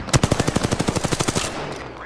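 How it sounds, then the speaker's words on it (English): Rapid automatic gunfire in Apex Legends: a fast burst of about fifteen evenly spaced loud shots over a second and a half, trailing into a short echoing tail. "The enemies are shooting at me."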